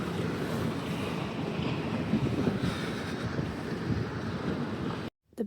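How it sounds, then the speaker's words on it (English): A ferry approaches a small Norwegian island, heard as a continuous low engine rumble mixed with wind buffeting the microphone and water noise, steady and close, cutting off abruptly near the end. "The boat is coming."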